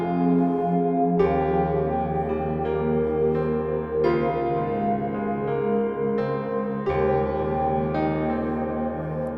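Dark, sustained synth pad drenched in Valhalla reverb, layered chords shifting every couple of seconds under a steady low bass, smooth and continuous with no voices.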